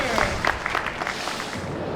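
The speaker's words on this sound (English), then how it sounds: "How about another round of applause for Aikido at the Center?" Crowd applause for an Aikido demonstration group on the main stage of the Tucson Japanese Festival, a dense steady patter of many hands at moderate distance that holds for two seconds with a few sharper claps near the start.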